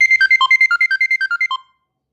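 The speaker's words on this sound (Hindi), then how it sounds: "इस तरीके से ये जो रिंगटोन आई थी वो आउट स्टेशन बुकिंग की है।" A ride-hailing driver app's ringtone alerts to an outstation booking: a rapid run of bright electronic beeps in a bouncing melodic pattern, loud and close, ending abruptly after about 1.6 seconds.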